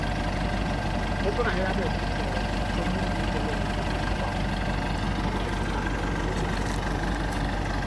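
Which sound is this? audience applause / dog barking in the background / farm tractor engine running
farm tractor engine running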